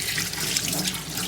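Water runs steadily from a kitchen faucet into a sink for hand washing, a close, continuous hiss with no talking.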